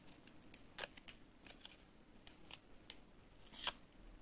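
Small paper surprise toy shaped like a duck being torn, heard as a few faint, quick crisp rips and snips spaced irregularly against a quiet background.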